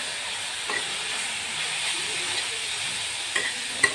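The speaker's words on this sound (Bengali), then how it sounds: "শাকটাকে এখন ভেজে নেড়ে চেড়ে ভেজে নিব।" Fenugreek greens stir-frying in a wok, a soft steady sizzle with a few faint taps of a spatula and a sharper clink near the end, no voices.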